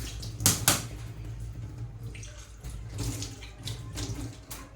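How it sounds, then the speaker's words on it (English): Water runs steadily from a kitchen tap while cooked greens are rinsed, with a few louder splashes and sloshes near the start and no talking. "Let me rinse here and return them here so that they can drain the excess water they have."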